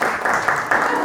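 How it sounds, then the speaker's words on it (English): A round of applause from a game-show-style audience at an enterprise challenge launch, steady dense clapping with swells, brief and loud. "Your prize was a round of applause"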